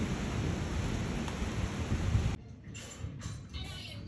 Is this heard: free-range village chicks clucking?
no